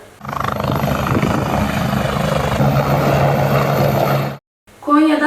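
An air ambulance helicopter carrying an injured skier from the Aladağ ski resort in Derbent, Konya, thunders loud and close with a steady rotor chop, cuts out briefly, then returns.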